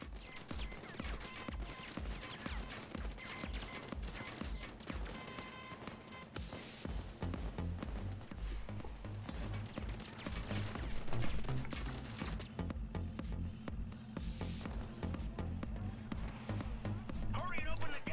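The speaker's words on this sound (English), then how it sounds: "the turret is relentlessly hitting me" Automated turret in Payday 2 firing relentlessly, a steady loud stream of rapid gunshots running throughout, partly under a speaking voice and busy game noise.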